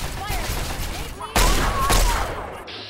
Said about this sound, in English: I'll shoot the guy up on top.